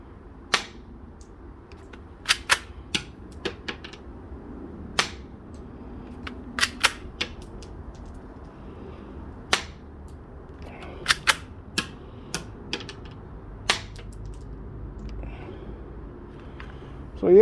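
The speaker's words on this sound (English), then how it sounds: "Let's do a little shooting test," A Glock-style toy foam dart blaster firing, giving sharp snapping shots, single and in quick pairs, scattered irregularly over a quiet room background with low hum.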